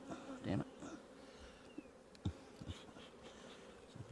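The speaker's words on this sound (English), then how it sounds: "Really not happy, these bees." Agitated honey bees buzz around an opened hive during spring swarm-prevention work, a constant hum broken by a few soft knocks and thumps nearby.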